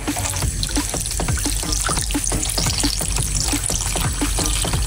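Water trickles and splashes steadily onto sugar in a hot pan, with a continuous sizzling hiss underneath and no talking.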